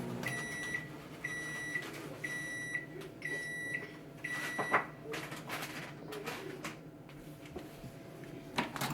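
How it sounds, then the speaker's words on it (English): A microwave oven melting chocolate hums steadily while a series of high beeps sounds at the start, followed by clatter and handling noises. "One more time in the microwave will probably do it."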